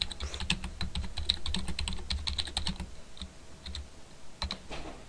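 Computer keys clack in quick, uneven bursts close by, quiet with short pauses between runs of keystrokes.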